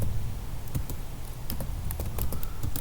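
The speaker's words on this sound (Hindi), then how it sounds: "तो अभी हमें सिंपली ये सिंटैक्स अपने जो टर्मिनल है उसके ऊपर टाइप करना है" Fast, uneven keystrokes clatter on a computer keyboard while a command is typed into a Kali Linux terminal, close and clear, with no talking over it.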